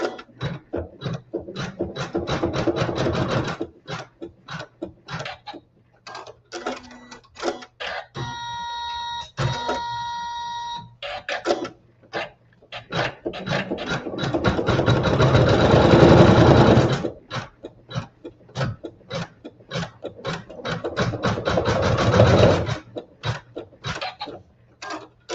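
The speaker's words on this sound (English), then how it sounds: "and sew our tack down" A sewing machine stitches a quilt fabric tack-down in quick bursts, starting and stopping with rapid mechanical clatter and brief pauses between runs.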